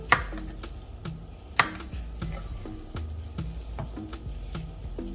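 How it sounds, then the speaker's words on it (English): A knife chops serrano peppers on a cutting board in a steady run of crisp thuds, with a few sharper knocks. The chopping is close and clear, and nobody talks. "we're going to chop up some of our serranos"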